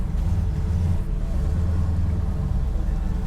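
A 1972 Dodge Charger with a 5.9L Magnum V8 drives along with its exhaust closed, giving a steady, loud, deep rumbling drone heard from close by without any talking.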